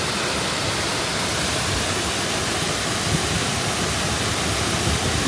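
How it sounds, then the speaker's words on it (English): Steady rushing water flows in a stream beneath a bridge, a continuous, fairly loud broadband wash with no voices over it. "there is definitely some water flow here today"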